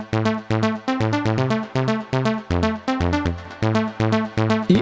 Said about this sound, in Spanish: En este caso, el sintetizador por sí solo suena así.